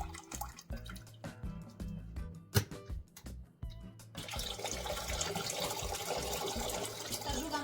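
Marinade liquid poured from jars of sweet preserved tomatoes with sugar through a perforated lid, a broken trickle that turns into a steady, continuous pouring stream.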